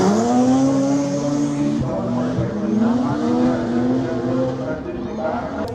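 Race cars at a hardpark drift event sweep around the first corner of the track, engines loud and revving with rising and falling whines, layered over one another and close by, with a crowd-like wash underneath.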